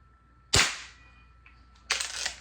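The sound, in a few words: Snow Peak air gun being fired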